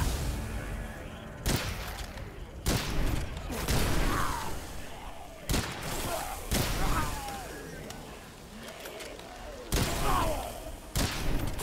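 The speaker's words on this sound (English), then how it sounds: "I like that crit explosion." Gunfire in the FPS game Witchfire, with sharp repeated shots and heavy booming critical-hit explosions bursting at intervals, loud and close, over a continuous game soundscape.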